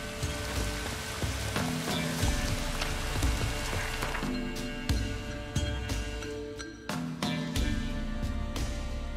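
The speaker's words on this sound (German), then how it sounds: "Die Wettermacher haben uns Regen gebracht." Steady rain hisses and patters in The Witcher 3, a dense continuous wash of drops with occasional sharper ticks, loud and constant with no talk over it.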